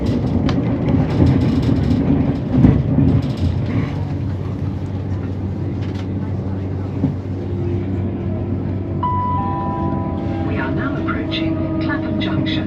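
A London commuter train rolls toward Clapham Junction with a continuous low rumble and hum, a rising electric whine toward the end, and voices speaking over the ride.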